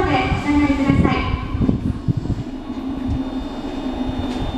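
A Kobe Municipal Subway 1000 series train rumbles loudly into a station, a steady low roar with rattling, while a voice speaks over it near the start.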